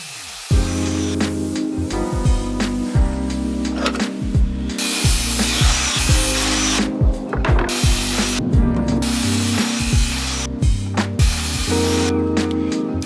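Power saw cutting the ends off weathered wood pallet deck boards, a series of loud, close buzzing cuts separated by short pauses, with clattering knocks of the boards between passes.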